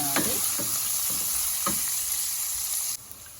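Chopped onions with salt and turmeric sizzle steadily in a pan on the stove. A few sharp scrapes of a spoon stirring cut through the hiss, and the sizzle drops off abruptly near the end.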